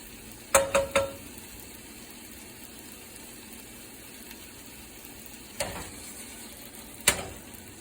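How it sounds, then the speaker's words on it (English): Butter melts and noodles cook in a pan, giving a soft steady sizzle close by, broken by a few sharp clicks and clatters of utensils or cookware, with no talking. "take this and let the butter melt real quick. I'm going to throw some noodles on top."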